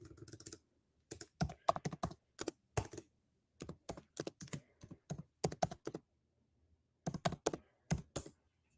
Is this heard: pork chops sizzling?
no